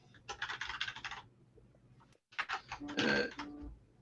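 Typing on a computer keyboard during a meeting comes in two quick bursts of rapid key clicks, close and moderately quiet, with a brief pause between them.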